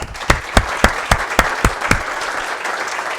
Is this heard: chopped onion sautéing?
no